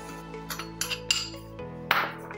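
Seven spoonfuls of maida flour go into a bowl, each marked by a light clink of the spoon against the bowl's rim, with several soft, evenly spaced taps and a brighter knock near the end.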